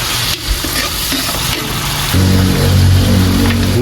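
Tomato and sponge gourd sautéing in a pan, with a steady loud sizzle and stirring scrapes that swell and thicken in the latter half.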